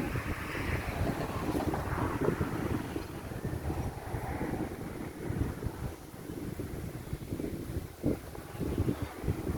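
Wind blowing steadily through trees outdoors, a broad rushing roar with gusty rises and falls, loud and continuous with no voices.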